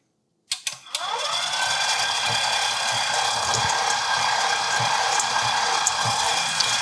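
A KitchenAid stand mixer with a shredder attachment grates a block of white cheddar straight into the mixer bowl: a few clicks, then a steady, close motor whir that runs without a break.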